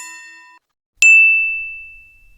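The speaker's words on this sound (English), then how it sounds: "So you look for the notification that will match it" Notification sound effect from the CapCut sound library: a soft ringing tone fades out, then after a brief silence a single bright ding strikes and rings on as it slowly decays, loud and clean with no voices.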